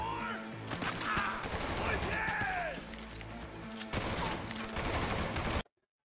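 Gunshots in Cyberpunk 2077, rapid automatic bursts mixed with crashing impacts and game sounds, loud and continuous for over five seconds before cutting to silence, with talking underneath.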